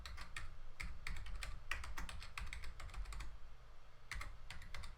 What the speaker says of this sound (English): And then type it back in.